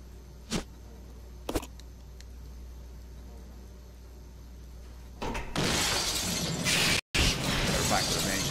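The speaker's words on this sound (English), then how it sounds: "Hear all that glass break and just wait for the Stone Cold Steve Austin music" Glass shatters loudly in the video game Resident Evil Zero HD, a long crashing burst of breaking panes that runs several seconds with a brief cut, after a couple of faint knocks.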